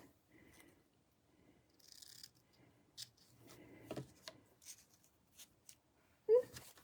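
Scissors cutting the end of a ribbon during card making: quiet snips and light rustling handling sounds, with one sharper louder snip near the end.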